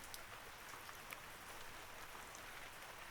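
Steady rain falls outside a window in a continuous soft hiss with faint scattered drop ticks, even and unbroken throughout, no voices.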